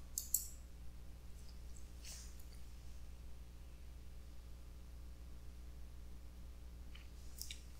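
Sharp computer mouse clicks at a desk while debugging code on a LAUNCHXL-F28069 microcontroller kit, a couple near the start and a few later, small and close over a low steady hum.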